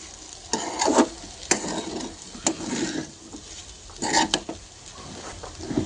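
A spoon scrapes and knocks against a pan while peanut powder is stirred into guava sabudana khichdi, giving irregular close-up clinks and soft scraping strokes.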